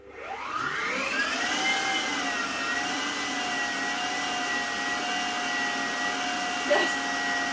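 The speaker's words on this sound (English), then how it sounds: "the dough is mixing there nicely" Stand mixer with a guard fitted, mixing biscuit dough: the motor spins up within the first second, then holds a steady, loud whirring hum with bright tonal whine, a single knock near the end.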